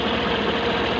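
A Suzuki Burgman Street scooter with a freshly replaced spark plug idles close by with a steady, even mid-low engine hum and no talk.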